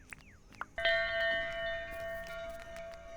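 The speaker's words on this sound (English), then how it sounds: "let's go ring the bell" A bell rung in the video game Dinkum gives a clear ringing tone that sustains and slowly fades for a few seconds, following a couple of soft clicks, fairly quiet with no talk.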